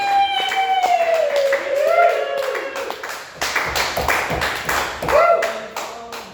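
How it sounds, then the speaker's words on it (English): An audience at a stand-up comedy night in Bar9 claps in scattered, uneven bursts, with a voice carrying over the first part. "Let's give her a round of applause."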